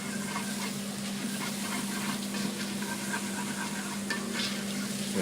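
Chicken curry with curry powder sizzling steadily in a pan over low heat while being stirred, a continuous close frying hiss with soft scraping of the spoon throughout.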